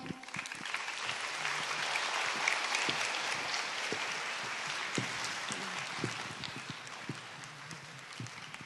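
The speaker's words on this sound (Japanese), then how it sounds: "皆様ぜひ大きな拍手でお迎えください。" Dense, sustained applause from a crowd at the Miss Grand Japan & Mr Gay Japan 2022 pageant final, greeting a music producer before the national anthem; it stays steady and loud throughout with no voices on top.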